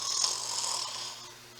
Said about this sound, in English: soon he began to snore, so that the whole house shook